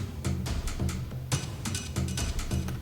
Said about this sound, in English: I added a sort of orchestral drum layer, you could say. This sounds like some sort of movie trailer